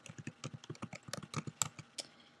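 Rapid keystrokes on a computer keyboard as a password is entered, a steady run of close, crisp clicks with uneven spacing, no voices.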